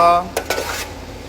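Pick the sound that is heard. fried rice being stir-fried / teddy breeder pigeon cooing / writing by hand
fried rice being stir-fried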